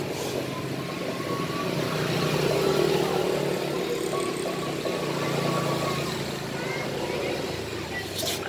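An Anpha motorcycle engine started and left running, a steady mid-pitched idle that swells slightly and stays close and constant, with voices faintly present underneath.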